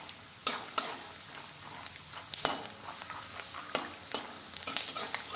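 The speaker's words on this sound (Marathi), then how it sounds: "आणि सतत हे असं हलवत राहायचं आहे, नाहीतर शेंगदाणे करपू शकतात।" Peanuts roast dry in a pan while being stirred, giving a faint, steady crackle with scattered sharp scraping clicks up close.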